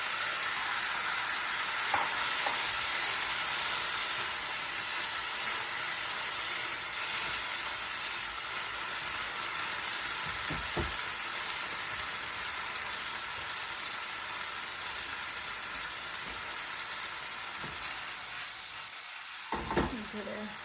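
Tomato and rice frying in a pan, a continuous close sizzle with soft stirring scrapes and a few spoon knocks, no talking over it.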